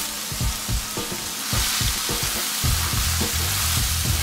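Ingredients for salmon with yogurt and fresh herbs sizzle and fry in a pan, with repeated scraping stirs knocking at a steady, uneven rhythm close by, no talking.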